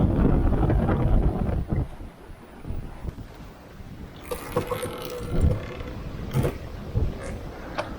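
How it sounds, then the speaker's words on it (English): Wind rushes steadily over a sailboat making about 8 knots in a Meltemi between Naxos and Amorgos, a loud, constant roar with bursts of buffeting against the microphone and water noise beneath. "But we still have the same wind, which is good."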